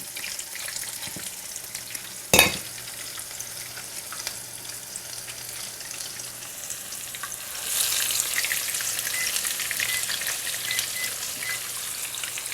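Zucchini fritters fry in a pan with a soft, steady sizzle. A sharp clack sounds early on, then the sizzling swells louder and busier for the rest of the time.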